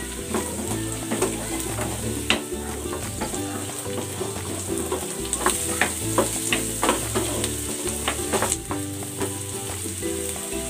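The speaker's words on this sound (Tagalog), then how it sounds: "Igigisa ko na itong carrots at ang patatas." Onion, carrots and potatoes sautéing in a pan for an egg curry, a steady sizzle with scattered stirring scrapes and clicks running throughout at close range, no voices.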